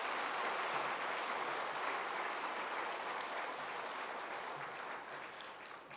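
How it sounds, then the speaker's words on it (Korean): Steady applause from a church summer camp audience after a hymn, a dense wash of clapping that carries through and fades slightly at the end, fairly faint and distant. "다시 한번 박수 보내주시면 감사하겠습니다"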